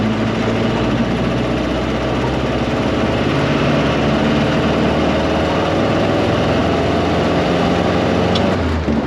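A loud hot rod engine idles in second gear with a steady, throbbing low rumble that stays constant, close to the microphone.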